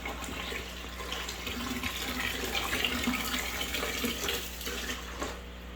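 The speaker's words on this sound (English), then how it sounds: "We're going to pull 5 gallons out so I can work in here again without overflowing the tank." Water being drawn out of a 40-gallon killifish tank makes a steady, close rushing and splashing flow that fades slightly at the end.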